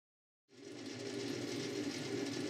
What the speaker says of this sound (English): The lathe is currently running too slowly, really, so I'm just taking gentle cuts.